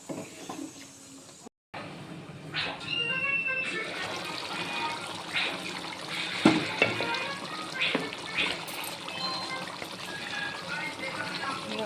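Potatoes and broiler chicken fry in hot oil for a homemade chicken dish, a steady close sizzle with stirring scrapes and light clatter of utensils throughout.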